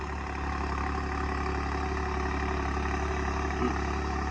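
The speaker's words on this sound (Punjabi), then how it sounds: "ਬਾਈ ਟਰੈਕਟਰ ਨੂੰ ਹੋ ਗਏ ਲਗਭਗ 10 ਮਿੰਟ ਚੱਲਦੇ ਨੂੰ" A 3630 tractor engine runs steadily at close range, a continuous loud, even drone with no breaks or changes in pace.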